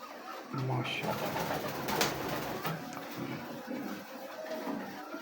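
A large, sturdy fancy pigeon in a breeding loft in Gujranwala coos in low, soft murmurs under steady background noise, with some voices around it.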